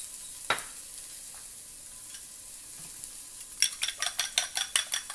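Onion frying in a pan for egg chilaquiles makes a faint, low sizzle, followed by a quick run of rhythmic utensil scrapes and clinks against the pan toward the end.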